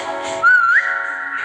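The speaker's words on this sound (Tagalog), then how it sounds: "Sipol lang tayo" A single short whistle from a person, a clear rising tone that lasts about half a second, close and fairly loud against quiet background.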